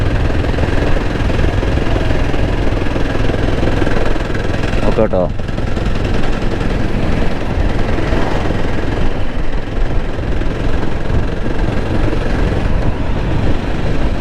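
A motorcycle labours up a steep climb with its engine knocking, a steady rumbling drone mixed with wind that runs the whole time, loud and close, while a rider talks over it.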